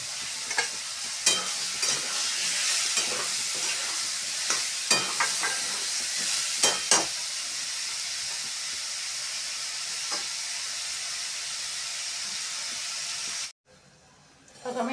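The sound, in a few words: tomatoes frying with chili powder in a pan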